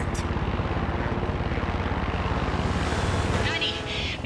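A propeller aircraft flying in the Far Cry 6 video game, its engine droning loud and steady throughout, with a brief shift in tone near the end.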